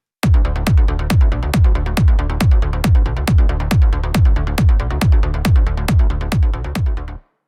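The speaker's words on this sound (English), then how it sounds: "and together with the kick, the basses sound like this" Kick drum layered with Spire synth basses in Cubase, in an epic uplifting trance style: a loud, steady four-on-the-floor pulse of about sixteen punchy hits with a deep sustained bass under each beat, and no voices.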